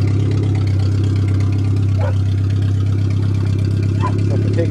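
A Suzuki Swift 1.3 idles steadily up close, a loud, even low drone with a constant hum and slight mechanical chatter, and a voice talks faintly over it.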